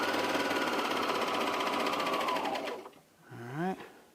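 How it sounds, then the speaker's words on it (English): A Juki MO2000QVP serger (overlock sewing machine) runs steadily while sewing a shirt, a fast close mechanical whir that winds down and stops, followed by a brief voice. "this serger is amazing, I'm telling you"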